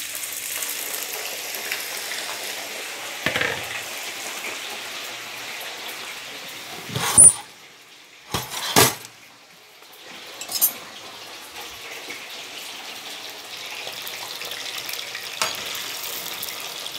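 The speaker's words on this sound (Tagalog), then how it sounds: "Ayan, ito na ang mantika guys, mainit na siya. Ilagay ko ang patatas" Sliced potatoes frying in hot cooking oil give a steady, soft crackling sizzle close by. A few sharper pops and clatters stand out above it, and no one talks.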